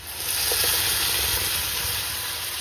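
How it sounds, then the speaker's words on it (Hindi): Tomato puree hits hot ghee with onion, ginger, garlic and chili for paneer bhurji, giving a close, loud steady sizzle and hiss that swells then settles, with no talk. "टमाटर की प्यूरी जा रही है।"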